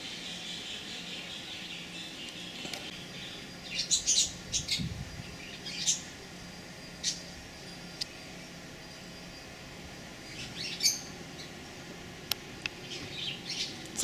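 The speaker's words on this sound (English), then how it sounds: "A bird somewhere. I hear the birdie." Scattered bird chirps and short tweets pop up every few seconds over a quiet outdoor background, fairly faint and irregular.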